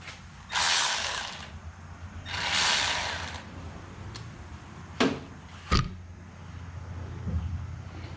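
Screw being tightened into a Cub Cadet mower arm rest: two longer rasping ratchet-like bursts followed by a couple of sharp clicks, close and fairly quiet, with no talking.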